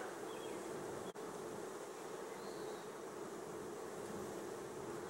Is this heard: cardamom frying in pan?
no